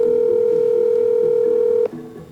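A steady telephone dial tone sounds loud and close for nearly two seconds as a call is placed from a phone, then cuts off abruptly into faint background noise.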